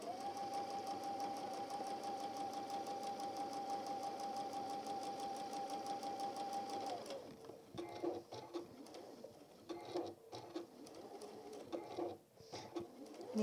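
A sewing machine set to a 1.6 stitch length stitches a Tilda goose toy, humming in a steady run for about seven seconds, then giving way to short bursts of stitching and fabric handling as the piece is turned.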